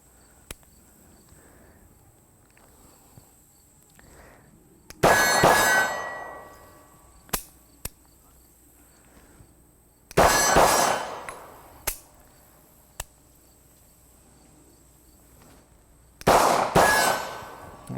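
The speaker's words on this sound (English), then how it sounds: "let's go ahead and see how the pistol does doing double taps with the gun in double action on the first shot" A Beretta M9 full-size 9mm pistol fires three loud double taps at a range, each a pair of sharp close reports with ringing decay, spaced several seconds apart, with faint metallic clicks and insect-like hum between.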